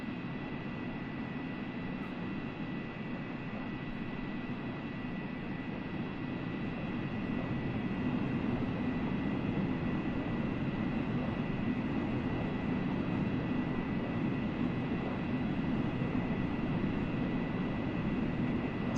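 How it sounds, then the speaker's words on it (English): A McDonnell Douglas MD-80 airliner cruising in Microsoft Flight Simulator, heard as a steady, even cabin drone of engine and airflow noise with faint tonal hums, continuous and unchanging with no talk. "On board the McDonnell Douglas MD-80. European Air Charter."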